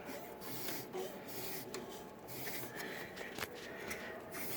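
An HP Designjet T1600-series large-format printer carriage slid back and forth by hand along its rail, giving a steady, close, soft rubbing and rasping mechanical noise with a few brief clicks, and no talking.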